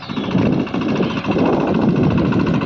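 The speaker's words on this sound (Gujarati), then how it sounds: "તો આજે આપણી વાડીએ નવાજભાઈ સિંગડા ટ્રેક્ટર લઈને આવી ગયા કપાસ વાવવા." A tractor engine idles close by on a farm at cotton sowing, a low, even, throbbing rumble that runs throughout with no voices.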